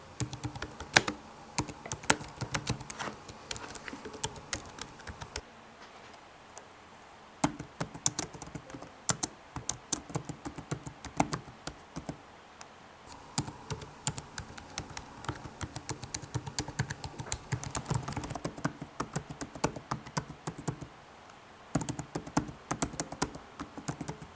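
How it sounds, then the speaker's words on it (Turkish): Steady typing on a Lenovo Legion laptop keyboard, close up: rapid, irregular key clicks continue throughout with a few short pauses, no voices. "Klavyenin tuş seslerini ve detay görüntülerini de buraya bırakıyorum"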